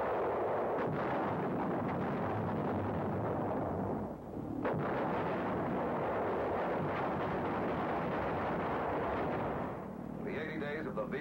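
Anti-aircraft gun battery on the south coast of England in 1944 firing, a dense continuous roar of loud booming gunfire with heavy rumble throughout, briefly dipping midway and near the end, with narration over it.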